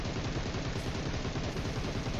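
Gunfire in the video game PUBG Mobile: rapid automatic bursts in a dense, steady rhythm of low thuds, loud and continuous with no pauses.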